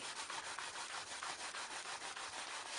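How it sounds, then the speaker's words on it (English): Wax rubbed by hand onto an acrylic painting, a very faint soft scrubbing with quick regular back-and-forth strokes, close up and alone. "by coating it with wax like this"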